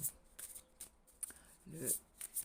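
Oracle cards with a small heart design being shuffled in the hands: a short, soft papery riffle near the end, with faint taps and rustles before it in an otherwise quiet room.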